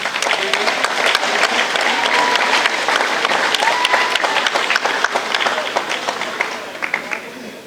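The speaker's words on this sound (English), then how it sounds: "Can we all give a round of applause for our lovely parents?" A crowd at a swim meet applauds the parents, loud continuous clapping mixed with cheering voices, holding steady before tapering off toward the end.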